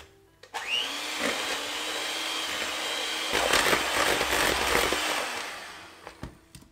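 Electric hand mixer creaming butter and sugar in a bowl for black and white cookies, a steady close motor whine that grows rougher and louder midway as the beaters work, then cuts off with a few clunks.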